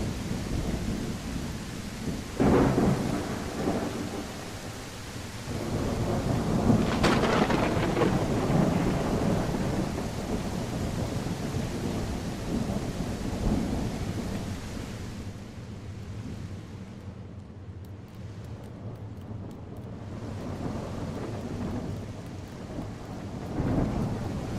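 Rain pours steadily in a dinosaur video game while deep rolls of thunder swell and fade, the loudest rumble building midway before the downpour settles into a softer, even hiss.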